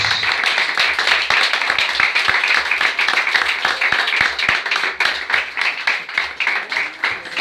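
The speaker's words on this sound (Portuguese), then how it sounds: "Aplauda ao Senhor Jesus" A church congregation claps steadily and loudly for several seconds, a dense, continuous patter of many hands with no pauses.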